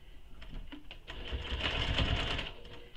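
A sewing machine runs in quick, close bursts, stitching down a bag handle on a sling pack, its rapid needle chatter rising into a steady run before easing off.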